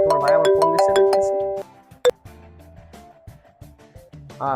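A mobile phone ringtone for an incoming call plays loudly as a bright melodic tune, then cuts off, leaving faint room noise and a single short chime-like knock.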